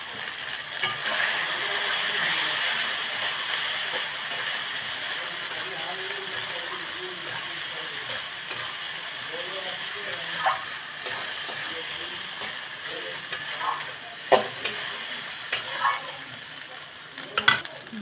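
Chicken masala stirred and frying in a pan, with salt, turmeric and chili powder added; a steady broadband sizzle runs throughout, with occasional scraping clicks from stirring growing sharper toward the end.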